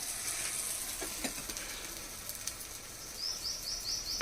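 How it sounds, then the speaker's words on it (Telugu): Bobbatlu, sweet Telugu flatbread, frying in ghee on a medium flame give a soft, steady sizzle with occasional crackles and light pops, faint and close, with a few high chirps near the end and no talking. "నెయ్యితోటే కాలాలి మీడియం ఫ్లేమ్ మీద కాలాలండి"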